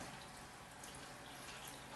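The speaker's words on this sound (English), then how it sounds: "Now here's the water to put down into the dish." Water is poured steadily into a dish holding forced paperwhite bulbs, making a quiet, continuous wash of splashing for about two seconds.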